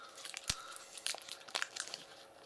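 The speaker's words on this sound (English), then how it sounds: "So I'll just open one up for you now." A Funnbarr protein snack packet being opened up close: crisp plastic crinkles and crunches in short separate bursts, with no talking.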